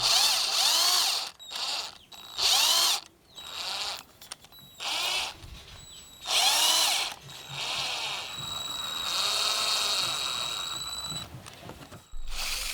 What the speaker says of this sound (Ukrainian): шуруповерт або в дриль зажмемо шматок шпиці від велосипеда